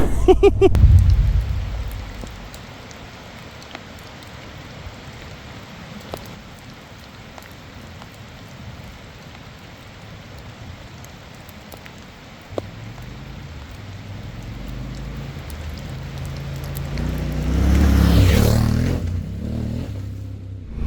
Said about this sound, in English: Boy, it is really starting to rain right now, that is for sure.